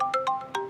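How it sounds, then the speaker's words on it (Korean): A phone ringtone for an incoming call, a short melodic electronic pattern of four quick tones, clear and close with no voices. "전화가 왔는데요?"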